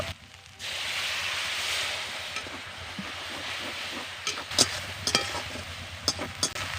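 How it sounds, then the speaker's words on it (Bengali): Masala spices with turmeric, chili powder, salt and a little water fry in a pan with a soft continuous hiss, while scraping stirring strokes clatter irregularly toward the end. "এবার ভালো করে মশলাকে কষিয়ে নেব"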